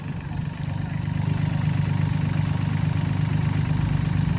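A Solis 26 Xtra tractor's Mitsubishi engine idles close by, a low rumbling drone with an even pulse that holds the same level throughout.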